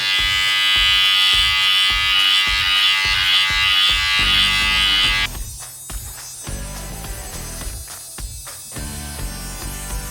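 A Braun MGK 7020 beard trimmer fitted with its widest blade buzzes steadily and loudly up close for about five seconds, then cuts off, leaving quieter handling noise and rustling.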